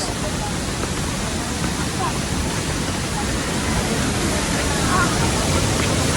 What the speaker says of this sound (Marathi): हा बघा हा नांगरतास धबधबा. पाणी बघा कसं पडतंय खाली.